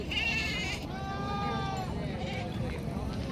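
Gavran goats at a village goat market bleating in a few wavering cries, close over busy crowd chatter and background voices.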